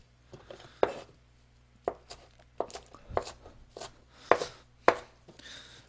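A knife chops food on a cutting board while meatballs are being made, a few sharp knocks that come at uneven intervals with quiet gaps between them, close up and without speech.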